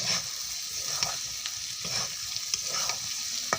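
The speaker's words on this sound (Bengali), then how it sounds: "পেঁয়াজ ভাজবো একসাথে লাল করে পেস্টটি সুন্দর করে মাংসের সাথে ভেজে নেব" Onion and spice paste frying with chicken pieces for chicken masala, a steady close sizzle with regular scraping stirs of a spoon against the pan.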